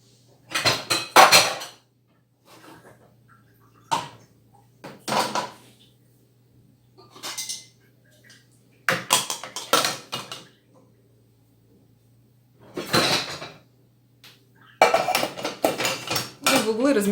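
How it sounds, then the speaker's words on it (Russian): Cups and dishes being loaded into a Beko dishwasher, intermittent clinks and clatters of crockery and racks in separate bursts with quiet pauses between, and a person talking at times. "В углы размещу такие не очень загрязненные чашки."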